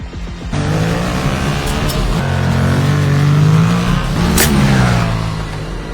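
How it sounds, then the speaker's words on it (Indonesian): A motorcycle speeds past on a street at night, a loud engine roar that swells and sustains with rising and falling pitch, alone without talk. "Saat di luar, motor melaju kencang."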